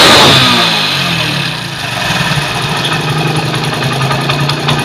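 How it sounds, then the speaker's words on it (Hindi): A small motorcycle engine, its petrol mixture just adjusted, revs hard at first, then falls back to a steady, close idle with a rhythmic chug. "अब बाइक को एक्सीलेटर देके चेक करेंगे"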